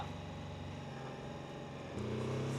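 A BMW F450GS motorcycle with an automatic centrifugal clutch holds a steady, fairly quiet engine drone that steps up in pitch and loudness near the end as the revs rise and the clutch picks up.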